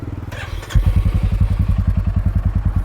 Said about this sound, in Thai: มาฟังเสียงท่อกัน